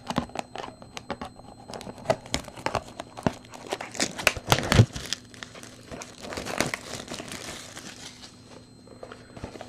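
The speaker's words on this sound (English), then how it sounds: "Go ahead and cut that one open too" Crinkling plastic and papery rustling from a 2018 Panini USA Stars and Stripes baseball card box being cut open, with bursts of crackle and tearing, close and fairly loud, no talk.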